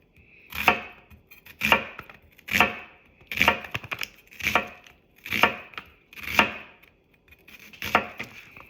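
Onions being chopped with a chef's knife on a board, about nine evenly spaced rounds of quick knife strikes, close and clear with no talking.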